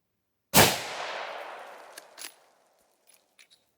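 A single sharp 6.5 Creedmoor rifle shot firing a 120 grain Hornady GMX load cracks out loud and near, its blast decaying over about two seconds, followed by a couple of faint clicks and rattles.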